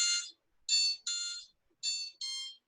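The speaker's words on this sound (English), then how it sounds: "That's an alarm." An electronic alarm sounds in five separate bursts, each a shrill, buzzing tone sharply cut off, the pattern slightly irregular, fairly close and with no talk over it.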